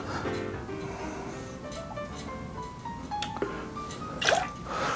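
Simply Light orange juice is poured into a low-carb Ward 8 cocktail, a soft liquid trickle and dripping that swells briefly near the end, close and quiet with no talk.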